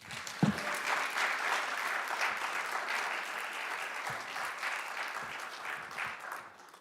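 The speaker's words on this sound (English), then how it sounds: "Could you guys give another round of applause, please?" Audience applause at an MLK celebration event in 2023, a sustained, dense wash of clapping from a large crowd lasting the whole stretch, steady and fairly loud with no talking over it.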